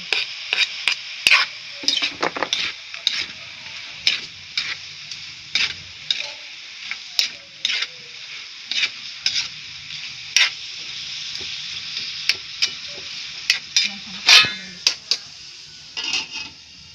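Onions sauté in a pan for palabok, a steady bright sizzle broken by frequent sharp scrapes and clinks of a utensil stirring, close up, with a voice heard briefly.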